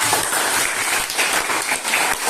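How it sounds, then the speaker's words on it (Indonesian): Classroom students clapping for a classmate during an economics microteaching lesson: a short burst of dense, fairly loud applause with no voices. "Beri tepuk tangan Mbak Sarah."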